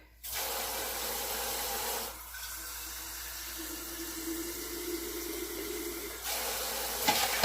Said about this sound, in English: Let's put some water.